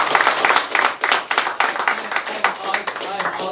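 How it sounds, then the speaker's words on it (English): An audience claps in a brisk, continuous round of applause that stays dense and fairly loud the whole time. "You guys give him a round of applause."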